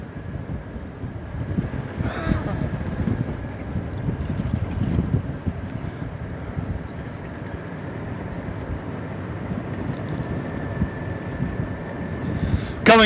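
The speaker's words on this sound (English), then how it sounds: "We have our windshield down, so you have the possibility of that you're getting a bunch of road noise" A golf cart rolls along a road with its windshield down, giving a constant rushing blend of wind buffeting and tire road noise, close and steady throughout, with a brief higher whine near the end.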